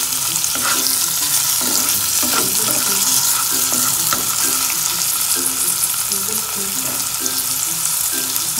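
Onions frying in a pan for a sardine dish, a steady close sizzle with soft periodic stirring scrapes and clicks throughout, no talking.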